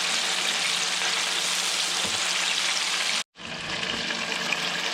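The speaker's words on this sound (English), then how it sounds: "Alright, so the fish is frying up nicely." Sheepshead fish fries in hot grease, a dense, steady sizzling hiss heard close and alone, broken by one brief dropout near the end before resuming.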